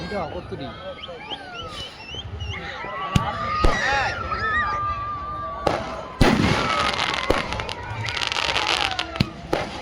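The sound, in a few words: firecrackers exploding at New Year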